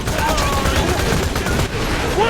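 Turrets rattle off sustained automatic fire in the shooter Borderlands 2, a dense, loud, continuous stream of shots with battle noise layered underneath and voices mixed in.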